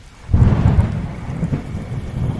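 A deep, rolling thunder rumble breaks in suddenly and lingers, with steady light rain pattering underneath, in a cartoon forest scene.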